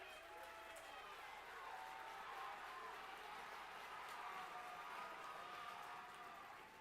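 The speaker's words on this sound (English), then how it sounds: "Crowd coming to life here" A crowd at a high school wrestling team sectionals meet roars and cheers in a gym, a broad, sustained wash of noise that stays fairly even and somewhat distant.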